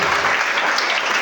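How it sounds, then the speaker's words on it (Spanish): Church congregation applauding, a brief dense burst of clapping from many hands, loud and close, with no talking over it. "Si va a aplaudir al Señor, hágalo con alegría"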